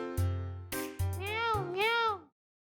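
A voice imitates a cat, giving a few short vocal bursts and then two drawn-out, wavering meows, close and loud in a classroom-style setting.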